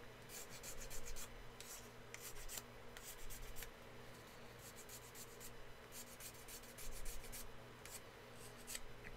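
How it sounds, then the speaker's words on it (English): Rhythmic bursts of a hand file rasping against a metal casting, coming in quick strokes with short pauses, close by over a low steady hum. "everything else can be done with hand files"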